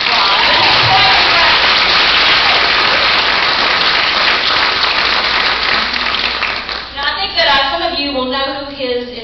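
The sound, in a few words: applause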